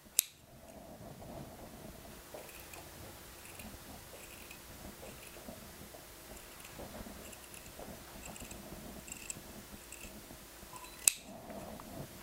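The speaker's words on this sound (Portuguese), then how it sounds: "E com a tesoura, já vou recortar o feltro duplo." Scissors snip steadily through double-layer felt in soft, repeated cuts at close range, with a couple of sharp clicks and a quiet hum beneath.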